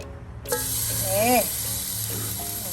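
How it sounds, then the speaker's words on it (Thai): A sudden loud sizzle starts as marinated pork hits a hot pan, then a steady frying hiss continues with brief clinks. "เดี๋ยวเอาหมูลงไปทอดเนาะ"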